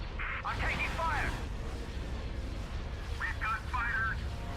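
Incoming fire rumbles through a Clone Wars space battle in a video game: continuous low booms and blasts, with brief radio-style voices speaking over the top.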